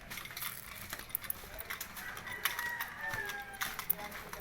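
Backyard coop of 5 fingers breed chickens and roosters, with faint clucks and a brief rooster crow amid a noisy outdoor background, no speech.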